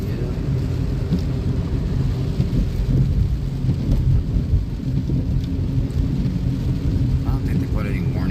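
Deep rumbling thunder rolls continuously through heavy rain during a severe thunderstorm, loud and close, while people talk faintly in the background.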